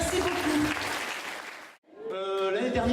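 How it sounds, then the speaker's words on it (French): An audience at a family meal event claps loudly for volunteers, with dense continuous applause that breaks off abruptly near the end before a voice starts talking. "j'aimerais qu'on les applaudisse très très fort"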